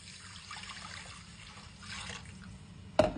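Water poured into a pot of sautéed rice for arroz con camarones, a soft steady trickle and splash, fairly quiet, ending in a brief sharp clink.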